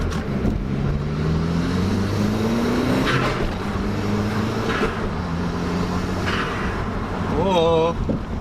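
Turbocharged car engine revving, rising and falling in pitch across several throttle blips, with short breathy bursts between revs and a fluttering chatter near the end; voices speak over it.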